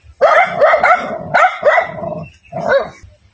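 A dog barks loudly and close by in a quick series of yelping barks, then pauses and gives one more bark.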